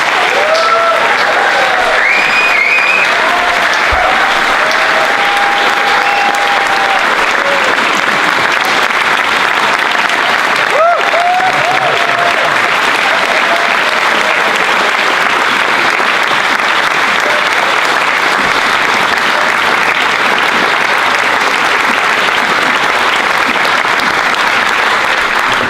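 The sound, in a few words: audience applause at an awards ceremony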